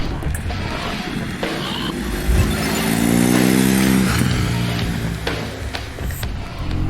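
A BMW R nineT Pure motorcycle in A2 restricted form, with its 1200 cc boxer twin, idles and revs nearby, the engine note rising to a steady drone mid-clip and then settling back.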